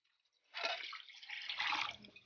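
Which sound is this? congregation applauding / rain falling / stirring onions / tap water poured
tap water poured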